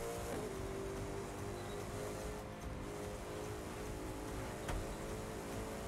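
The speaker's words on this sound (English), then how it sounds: "so let's increase the revs." Car engine in The Crew 2 pulling along a straight, a continuous gritty drone with a rising whine, briefly dipping and surging again, plus faint tire hiss; no talk over it.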